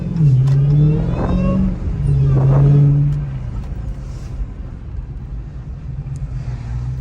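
A Dodge Hellcat engine revs loudly twice at close range at night in wet weather, each rev rising and falling, then settles into a steady low rumbling idle.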